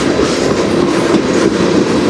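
A CN freight train passes close on the Strathroy Subdivision, a loud steady roar of rolling wheels and rumbling cars that fills the whole stretch without a break.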